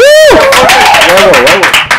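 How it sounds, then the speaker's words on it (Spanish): An audience claps for a band introduced at a music session, a loud, dense burst of applause under a shouting voice and crowd chatter that thins out toward the end. "un aplauso"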